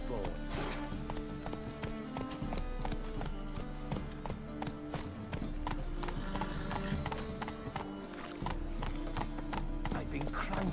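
A horse trots in a video game, its clip-clop hooves beating in a steady, even rhythm close up over continuous game music and ambience.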